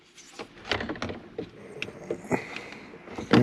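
A malfunctioning Genesis GV60 shifter knob gives off irregular internal clicks, rattles and mechanical grinding, a close, busy run of small knocks with a louder clunk at the end.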